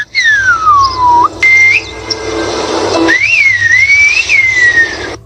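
A single person whistles a language derived from Guanche, sending loud, clear, sliding tones that swoop down and rise in several long phrases separated by brief pauses, with faint background noise.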